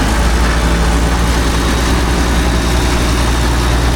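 An old White tractor engine idles steadily while the machine is loaded onto a trailer, a loud, constant low rumble with no change in pace.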